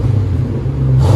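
A 1993 Lexus SC 400 V8 with dual exhaust, muffler delete and a throttle body fault rumbles loudly up close, a deep steady exhaust burble that swells slightly as the revs lift near the end.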